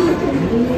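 A golden Kamagar pigeon on a rooftop loft coos in one loud, close, low rolling call that wavers up and down, with a steady background hiss behind it.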